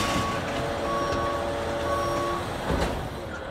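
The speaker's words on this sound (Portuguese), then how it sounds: "Espera, é o som do caminhão de lixo." A large garbage truck idles loudly while its reversing alarm beeps in a steady, repeating pattern, close by.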